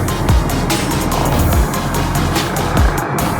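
Heavy street traffic jams Saddar, Karachi, with bikes stuck among vehicles. Loud, continuous engine rumble carries several vehicles passing close by in distinct whooshing sweeps, and there is no talk.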